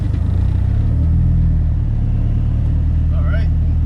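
A turbocharged SR20 engine in a Nissan S14 runs at a steady, deep idle. The low rumble stays constant throughout, with a faint, brief chirp near the end.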